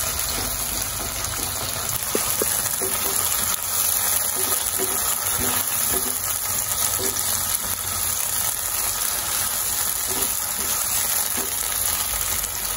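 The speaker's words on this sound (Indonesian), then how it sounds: "di sini aku gorengnya sebentar aja biar agak layu" Chili peppers fry briefly in a hot pan with a steady, even sizzle that runs throughout, close and fairly loud, with faint clinks and stirring noises now and then.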